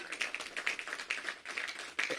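A small audience at a groundbreaking for the Lafayette Recreation Center in D.C. gives brief, scattered applause, with individual claps clearly separable and fairly close.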